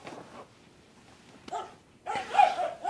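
Dogs barking in a couple of short bursts, one sharp bark followed by a louder cluster of yips and barks, moderately close.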